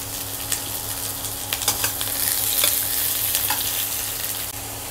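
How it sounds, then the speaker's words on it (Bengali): Freshly chopped onions hiss and crackle as they fry in a pan with whole garam masala, with steady close sizzling and occasional scraping stirs. "গরম মশলাটা ভাজা হয়ে গেছে, এবার আমি দিয়ে দিচ্ছি কুচনো পেঁয়াজ।"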